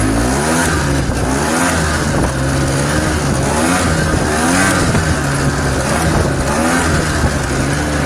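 A 1980s machine's engine revs steadily and loudly at close range while its idle is adjusted with a thumb throttle, the roar rising and falling in rhythmic surges throughout with no talk.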